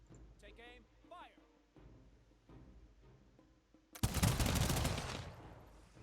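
Musket volley erupts in the strategy game Humankind: a dense, loud crackle of many shots fired together, ringing out after a stretch of calmer game sounds and spoken commands.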